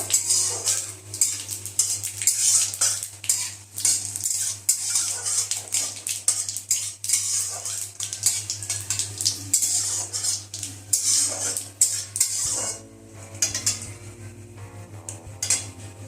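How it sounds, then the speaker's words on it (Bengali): A spoon clatters and scrapes against a pan while bay leaf, dried red chilli and whole cumin are stirred in hot oil, steady repeated metallic scraping with a faint sizzle underneath. "এর মধ্যে এই যে তেজপাতা, শুকনো লঙ্কা আর গোটা জিরে, একটু নেড়ে নেব।"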